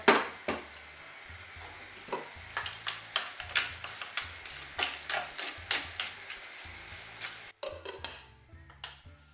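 Meat fries in a covered pan over high heat, a steady sizzle broken by repeated sharp pops and spatters in an uneven rhythm, close and fairly quiet, easing off near the end.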